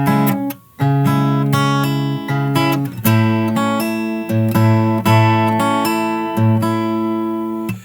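Fingerstyle guitar playing a song's melody: a repeating sequence of plucked notes over bass notes, clear and close, with slight variations and a brief pause near the start, no voices.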